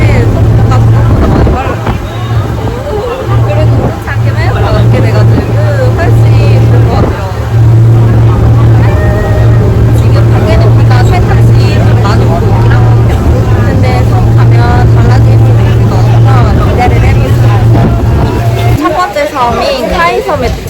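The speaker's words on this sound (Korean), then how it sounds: "지금 이제 보트를 타고 출발을 했는데" Loud, steady drone of a motorboat engine with wind and water rush on a rainy-season boat tour to the Phi Phi Islands off Phuket, Thailand, voices talking over it throughout.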